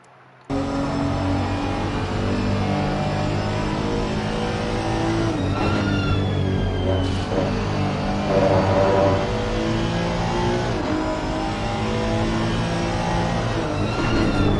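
A race car engine in the Assetto Corsa Competizione video game at Brands Hatch, loud and close, revving and shifting continuously for about fifteen seconds after a quiet start.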